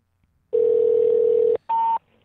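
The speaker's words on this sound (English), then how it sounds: "There's the phone." During a phone call, a telephone line gives a steady one-second tone, then a shorter, higher beep after a brief gap. The sound is clear and close over near silence.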